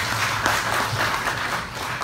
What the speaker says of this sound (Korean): 여러분 큰 박수로 맞으시기 바랍니다